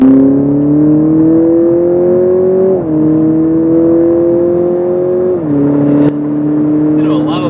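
A 2021 Toyota Supra engine drones loudly from inside the cabin, revving up steadily in long pulls between gear shifts while accelerating down a highway ramp.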